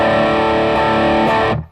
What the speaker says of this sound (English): Give me back my distortion.